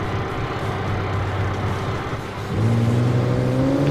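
A steady engine drone from the Feroce supercar in BeamNG, holding low and even, then revving up with a rising pitch in the last second and a half, loud and close with no talk.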